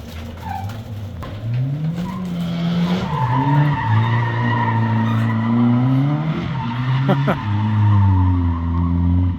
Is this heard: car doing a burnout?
yes